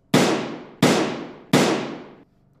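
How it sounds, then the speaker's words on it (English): Three loud, close gunshots from a radio drama fire at an even pace, each a sharp crack trailing into a long reverberant decay, with no voices over them. "All right then, I'll shoot!"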